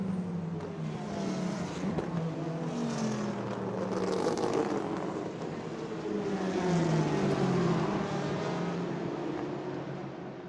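Ford GT race car at night near 200 mph on a long straight approaching a chicane, a distant rising and falling engine roar with shifting pitch sweeps, moderately faint and steady, no voices.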